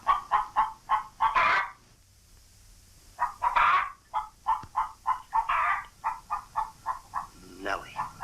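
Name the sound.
hen clucking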